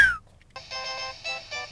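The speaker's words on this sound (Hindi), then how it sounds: "ये तो मेरे मोबाइल की आवाज है।" A mobile phone ringtone plays a bright, repeating electronic melody in short bursts. It is clear and moderately loud after a brief pause, with no talk over it.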